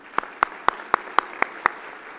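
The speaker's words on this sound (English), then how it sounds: "how about a round of applause for educators?" Audience at a high school commencement ceremony applauding educators, sounding as seven sharp, evenly spaced claps from a nearby source rather than a broad crowd wash.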